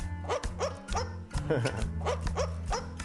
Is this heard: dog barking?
yes